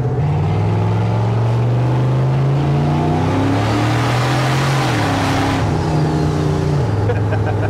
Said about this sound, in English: He wasn't expecting that Valiant to come blasting by him